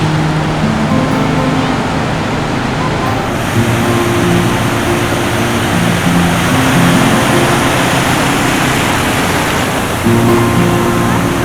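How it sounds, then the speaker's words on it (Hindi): Sea waves break continuously on Naugaon beach, a loud, dense wash of surf with a low rumble throughout, no pauses between swells. "आप भी इंजॉय करिए यहाँ की लहरों को।"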